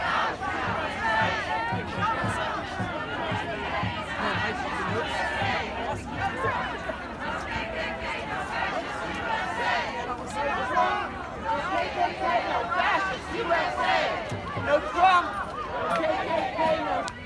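A large protest crowd shouting and chanting in the street, a loud continuous mass of voices with rhythmic rises and falls, close and enveloping throughout.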